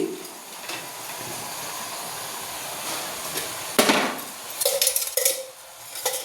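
A pan set down on a stove with oil poured in for paneer masala curry, giving a few metallic clanks and knocks over a steady hiss, with brief scraping bursts toward the end.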